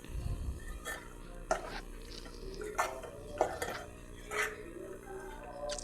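A spoon scrapes and clinks against a pan while fried fish curry ingredients are stirred in oil, giving a few distinct knocks at a steady pace with low sizzling underneath and no voices.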